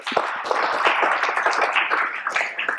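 School students in a classroom or hall clapping together, a dense, close burst of many hands that holds steady for a few seconds with slight variations in intensity.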